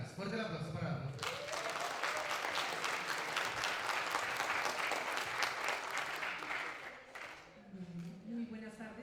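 An audience at a rural development event bursts into steady, dense applause lasting several seconds, with a speaker's voice just before and as it fades.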